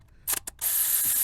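A 10 mm ratchet wrench loosens a bolt on a Toyota 1GR-FE 4.0L V6 during a water pump replacement. Two quick, close metallic clicks are followed by a short steady hiss.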